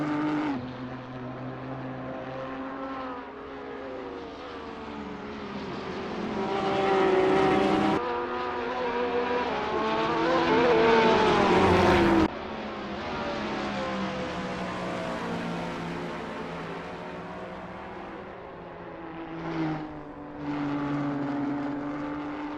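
Race cars roar through Monza's Parabolica in a GT racing video game, engines rising and falling with gear shifts, loud and continuous with sharp pitch changes as cars pass.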